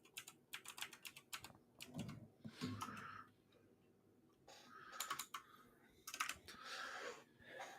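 Fingers type on a mechanical keyboard with a sticky spacebar, producing bursts of rapid clicky keystrokes separated by short pauses, close and fairly quiet.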